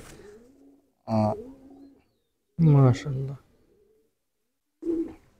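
White champion pigeons at a poultry tournament coo in short bursts between stretches of silence, close and fairly clear, and someone speaks briefly between the calls.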